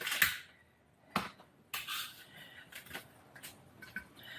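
Cooked waffle fries are tipped into an iron skillet, giving a series of irregular clinks and scrapes of metal and food against the pan, fairly close and moderately quiet, with no talking.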